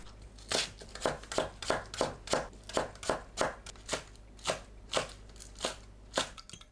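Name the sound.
knife chopping scallions on a cutting board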